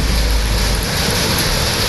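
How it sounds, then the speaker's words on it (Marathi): Unseasonal rain in the Vidarbha region, near Nagpur, makes a loud, dense hiss of falling rain over a short stretch, with a low rumble underneath and no speech. "नागपूरसह विदर्भातील बहुतेक जिल्ह्यात अवकाळी पावसानं हजेरी"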